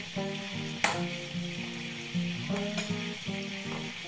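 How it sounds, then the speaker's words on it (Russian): Meatballs fry in a pan, a soft, quiet sizzle with a few sharp crackles and spatters, set under steady melodic background tones. "И обжариваю все фрикадельки со всех сторон."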